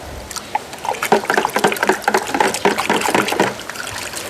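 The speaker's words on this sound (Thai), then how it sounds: "เสร็จแล้วเราก็คนน้ำร้อน" Hot water being stirred while diluting 68% nitric acid, a close run of quick liquid sloshes and splashes in an irregular rhythm, fairly quiet with no talking.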